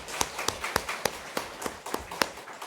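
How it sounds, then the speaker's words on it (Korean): A church congregation claps to welcome guests at a Sunday service. The claps are sharp, close and come in an evenly spaced rhythm of roughly three or four per second, heard alone without talk. "우리 이분들을 위해서 우리 박수로 환영하겠습니다"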